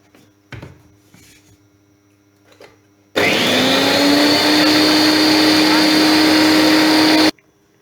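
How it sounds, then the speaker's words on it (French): An electric blender whirs loudly and steadily for about four seconds as it mixes water and flour, after a few faint kitchen knocks. "Je mets le premier verre d'eau, je rajoute de la farine et je vais mixer tout."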